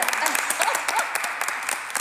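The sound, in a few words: audience applause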